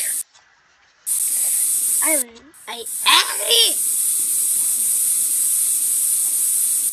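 A steady, loud hiss of spray paint in the Roblox video game runs through most of the clip, briefly cut off early on, while someone speaks over it.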